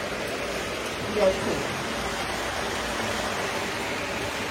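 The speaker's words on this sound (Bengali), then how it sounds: "দারুণ বৃষ্টি পড়ছে" Steady, dense rainfall hiss fills the clip evenly from start to finish, with a brief slightly louder moment near the beginning.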